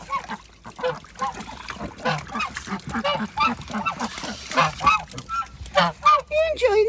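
Geese honk repeatedly at close range while being fed carrots, a busy stream of overlapping nasal calls and squawks, with some background movement throughout.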